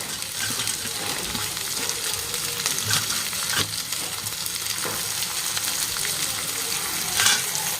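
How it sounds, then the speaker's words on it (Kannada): Noodle ingredients fry vigorously in a hot pan, a loud, continuous dense sizzle with occasional spatula scrapes and clinks, heard up close without talk. "ನಾವೆಲ್ಲ ಹಾಕಿನ ಒಂದ್ಸಲ ಚೆನ್ನಾಗಿ ಫ್ರೈ ಮಾಡ್ಕೊಂಬಿಡೋಣ ರೀ"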